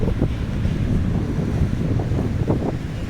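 Loud gusting wind buffets the microphone in a rainy storm, a continuous heavy rumble with surges that sound like surf, and no voices.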